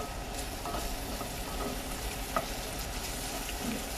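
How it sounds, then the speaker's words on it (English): Garlic searing in butter in a pan for beef stroganoff, a steady close sizzle running the whole time with a few faint clicks of a utensil, no talking. "Just wait till the garlic starts searing a little bit here."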